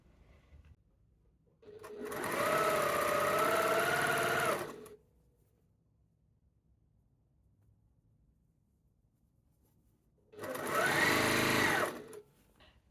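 A home sewing machine stitches fabric for a dress, running in two steady bursts of about three and two seconds separated by a long quiet pause, fairly close and with no talking.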